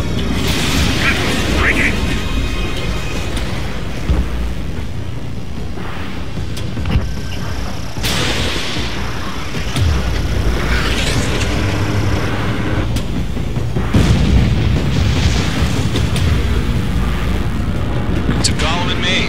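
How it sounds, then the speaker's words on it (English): Missile launches and explosions in a flight combat video game, with cracks and booms over continuous aircraft engine roar, heard under radio-style talk throughout. "Now, firing! Mage 2, missile launch."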